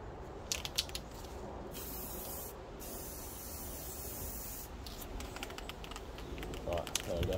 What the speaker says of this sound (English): I'm just going to spray it down a little bit.